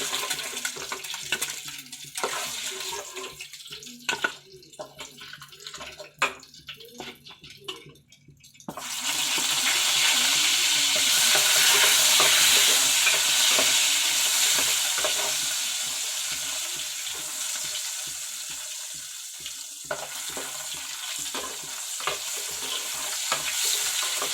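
Eggplant and egg curry with dried fish cooking in a pan: scraping stirs and clinks at first, then a steady loud sizzle of frying that swells and eases, with occasional utensil taps.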